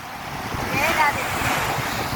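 Ocean waves wash onto a grey-coloured beach at Rameswaram as a steady, close rush of surf mixed with gusty wind buffeting the microphone, with no distinct individual breakers.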